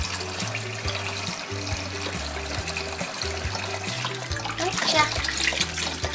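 Steady stream of water running from a tap into a sink during a guinea pig bath, a continuous close trickle and splash, with a low tonal hum and brief talk.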